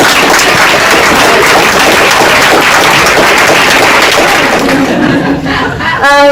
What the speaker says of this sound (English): a round of applause for librarians